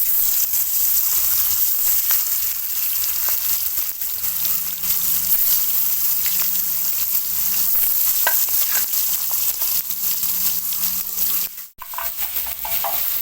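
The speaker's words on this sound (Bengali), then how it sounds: "তেল গরম হয়েছে, এখন মাছ দিয়ে দেবো" Tengra fish fry in hot mustard oil in a kadai, a loud, dense, continuous sizzle with occasional stirring clinks and one brief dropout near the end, close and unbroken.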